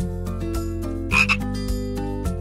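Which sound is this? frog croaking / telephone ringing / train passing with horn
frog croaking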